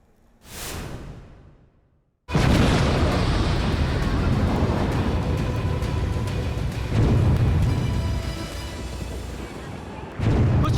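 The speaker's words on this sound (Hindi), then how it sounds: "ऐसा ही धमाका होगा" A rising whoosh, a brief silence, then a huge explosive blast from the controlled demolition of the Supertech twin towers in Noida, becoming a long, loud roar of rumbling debris, with a second surge near the end.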